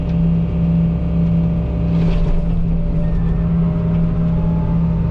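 A Deere 75D excavator's diesel engine runs steadily at close range, a constant low drone with a brief swell in the middle and no talk over it.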